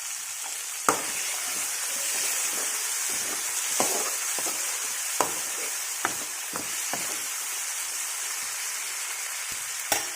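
Chopped tomatoes sizzle in hot oil in a pan with steady frying hiss, broken by several sharp clacks of a spoon or spatula stirring against the pan, alone and close.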